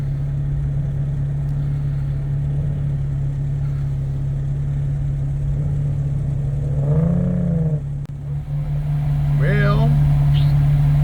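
An off-road vehicle engine idles with a steady hum, then revs and surges while stuck in deep snow ruts, its pitch rising and falling a few times; a voice talks briefly partway through.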